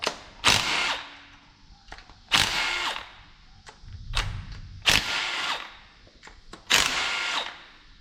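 An 8mm ratchet works bolts loose on a 5.3 engine, giving four bursts of rapid clicking separated by short pauses and lighter clicks and knocks, close and fairly quiet.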